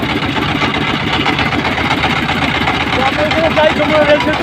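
Boat engine running on the river near the Jamuna rail bridge, a loud, close, steady mid-low throbbing chug with a voice talking over it.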